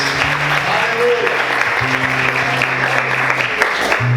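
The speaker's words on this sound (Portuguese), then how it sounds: "Vamos aplaudir Jesus com bastante alegria." A church congregation claps during a worship service. The clapping is loud and continuous, with sustained organ or keyboard tones and some voices mixed in beneath it.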